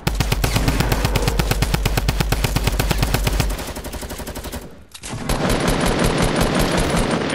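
Rapid automatic gunfire in the Fortnite video game, a loud close burst of evenly spaced shots for several seconds, then a brief dip and a dense continuous roar of firing and effects, without talk.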